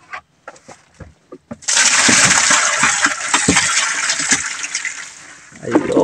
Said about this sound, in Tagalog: Lagyan mo ng tubig yung banyera.